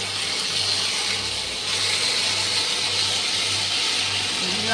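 Water poured onto ginger-garlic paste frying in a pan for a Bengali fish curry sets off a loud, steady sizzling hiss that swells partway through and keeps going, close and alone.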